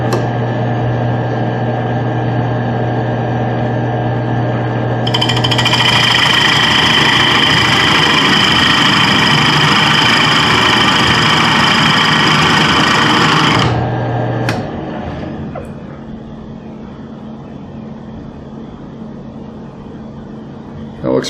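A wood lathe spins steadily while a tool textures a turned wooden box. It makes a loud, close, continuous hum. A higher-pitched tool contact layers over the hum for about nine seconds, then stops, and the lathe keeps running at a lower level.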